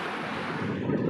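Steady wash of ocean surf on a muddy beach in Kerala, a continuous broadband rush with wind buffeting the microphone and no distinct individual wave breaks.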